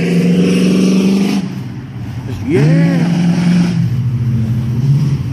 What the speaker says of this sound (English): Rev that engine.